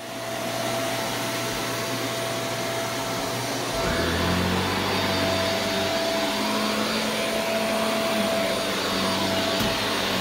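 A Shark Rotator Speed NV681 vacuum cleaner runs steadily over carpet with a loud continuous whine and airflow hiss, its pitch and power shifting upward partway through as it keeps vacuuming.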